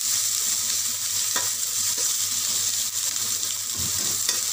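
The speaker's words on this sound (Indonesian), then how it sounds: "Bawang ni kita kena goreng garing." Sliced onions deep-fry in hot oil until crispy for a Kerala-style biryani, giving off a constant, loud, close sizzle broken by a few brief stirring scrapes.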